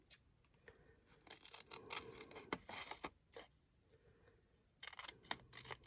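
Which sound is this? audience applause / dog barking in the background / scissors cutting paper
scissors cutting paper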